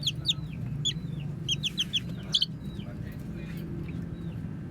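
Small chicks clucking and peeping in short high bursts over a low background murmur, fairly close.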